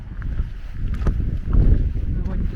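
Gusting wind buffets the microphone outdoors near water, a loud rumbling roar that swells and eases in uneven surges, with faint sounds of movement underneath.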